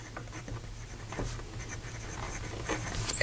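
A Montegrappa fountain pen with a medium steel nib scratches softly across paper in short irregular strokes, faint and close, over a low background hum that rises slightly at the end.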